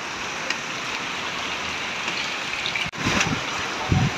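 Light rain falls during Super Typhoon Uwan in Cainta, a steady, even hiss of water that runs throughout with a brief dip near the middle and a few faint knocks.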